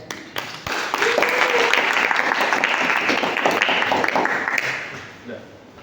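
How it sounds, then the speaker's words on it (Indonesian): An audience at a game programming workshop applauds a speaker, a dense, even wash of clapping that swells after a brief start, holds for several seconds, then fades out. "Mungkin kita tepuk tangan dong buat Mas Cesar."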